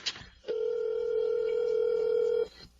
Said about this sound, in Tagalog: Tatawagan ko po sa cellphone niya.